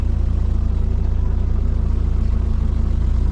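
A Vauxhall Nova 1.6 fuel-injected engine idles steadily at close range, a smooth low rumble with an even pulse and no talking.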